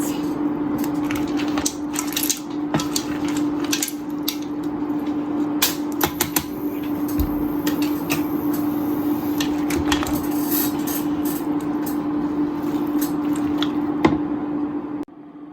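Seafood spaghetti is worked apart and tossed in a pan, producing continuous close wet squishing and clicking utensil sounds over a steady low hum, with some speech-like texture mixed in.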